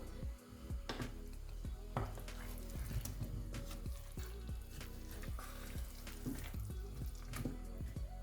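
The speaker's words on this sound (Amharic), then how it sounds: "ውሃዬን እከልሳለሁ" Water goes into a pot of Ethiopian red cauliflower stew after the vegetables have been sautéed, a steady pour and sizzle with scattered clinks of a utensil against the pot, close and continuous with no talking.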